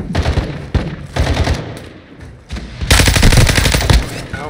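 Loud close gunfire in a video game, with separate heavy shots early on and then a dense sustained automatic burst, mixed with game effects.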